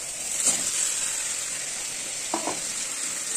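Fried pointed gourd and potato are sautéed in spice paste in a pan, with a continuous soft sizzle and a few brief stirring scrapes that are spaced apart, and no talking.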